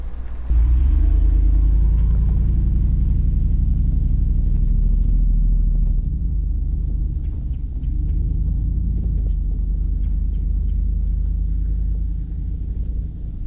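Jeep Wrangler 392 on 35-inch tires driving along, a deep, steady engine rumble heard from inside the cabin, loud low-pitched drone with slight swells, no talk.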